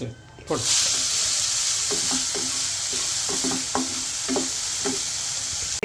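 Onions sizzle loudly in a hot pan with cumin while a spatula scrapes and stirs in a steady, repeated rhythm.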